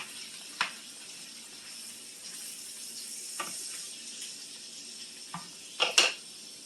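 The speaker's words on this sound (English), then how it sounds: "I'm going to stir very carefully so you don't splatter" Pasta and a whole bag of mixed vegetables stirred in a hot pan, with a soft steady sizzle and a few sharp utensil scrapes and clinks against the pan, loudest near the end.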